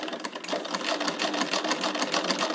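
A treadle sewing machine runs on a newly fitted belt with a close, steady, fast mechanical whirring and rhythmic clatter. It plays continuously with no talking.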